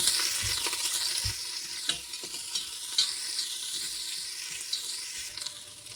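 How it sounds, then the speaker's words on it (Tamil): Onions, green chilli, garlic and ginger sauteing in a pan hiss steadily up close, broken by occasional soft knocks and scrapes of a stirring spoon. "பச்சை மிளகா, பூண்டு, இஞ்சி, கொஞ்சம் ஆனியன்ஸ் எல்லாத்தையும் போட்டு நம்ம வந்து வதக்கிக்கலாம்."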